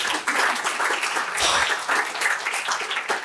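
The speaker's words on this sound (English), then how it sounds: "Another round of applause." Audience applause at a morning symposium session, a dense steady wash of many hands clapping throughout, fairly loud and close, with no talking over it.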